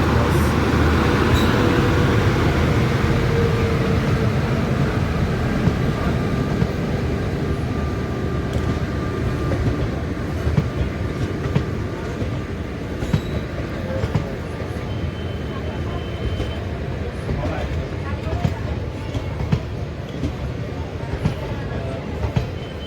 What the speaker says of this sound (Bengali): আমাদের ট্রেনটা নলাটি জংশন থেকে ছেড়ে বেরোচ্ছে